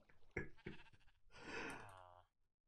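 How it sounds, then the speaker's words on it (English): A sheep bleats in the Minecraft video game, a quiet wavering bleat after a couple of short soft sounds, faint and heard alone without talk over it. "There's a sheep in here now."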